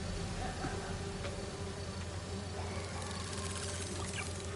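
Drones fly home with a steady high buzzing whine that holds from start to finish, close and fairly loud over a constant low hum, with no voices.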